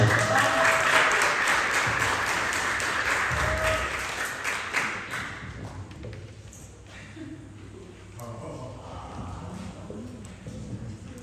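Warm applause greets a student reciter at a school literature day event, loud at first and then slowly thinning out over about eleven seconds.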